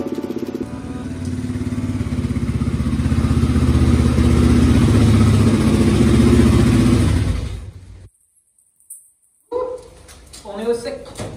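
Motorcycles rumble and rev as they are ridden into a shelter in Calvi, Corsica, engine noise building loud and close before cutting off abruptly, followed by faint clattering.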